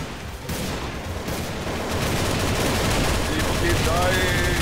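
Gunfire in a zombie shooter video game, a loud continuous stream of rapid shots and bursts filling the whole stretch, with faint game tones rising near the end.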